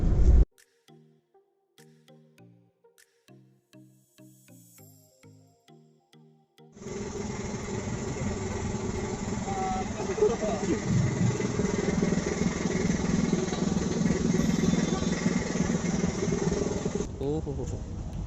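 A few seconds of rhythmic mechanical tapping, then a motorcycle engine rumbles up and runs steadily for a long stretch before abruptly dropping off.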